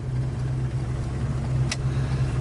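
A 1972 Plymouth Road Runner with turbo mufflers idles steadily nearby, a smooth low rumble holding even throughout with a brief click near the end.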